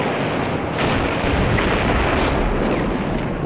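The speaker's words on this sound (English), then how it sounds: "Splendid gunnery by the Navy." Naval guns bombard the shore during a WW1 landing at Gallipoli, with several heavy booming blasts over a continuous low rumble of gunfire and no voices.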